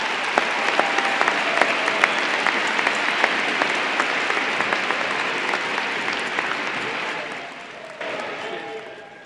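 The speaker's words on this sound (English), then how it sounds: "Please give all of these people a round of applause." Loud sustained applause from a large crowd at a high school graduation ceremony, many hands clapping steadily before tapering off and then picking up briefly near the end.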